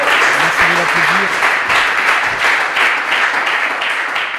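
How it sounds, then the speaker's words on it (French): Loud, sustained applause from an audience clapping for Norbert at an event in Lubumbashi, with a steady rhythmic pulse to the clapping and a brief voice or tone briefly audible early on beneath it. "merci beaucoup d'applaudir Norbert"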